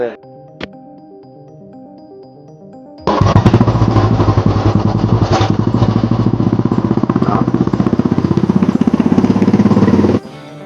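A Royal Enfield Bullet motorcycle engine fitted with a silencer baffle bursts into loud, close, thumping running after a quiet opening, holding strong for about seven seconds before cutting off abruptly.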